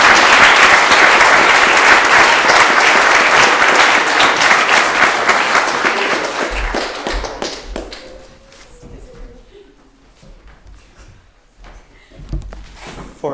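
Audience applause at a 2019 graduation ceremony, loud sustained clapping from a hall full of people that fades out over several seconds into quiet room tone with a few taps and thumps.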